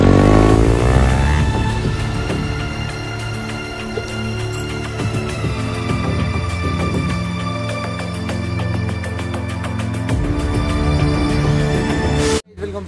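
A Hero Xpulse 200 motorcycle's engine and exhaust run steadily and loud at close range, with a strong throbbing drone throughout and a brief dip near the end, and no talking.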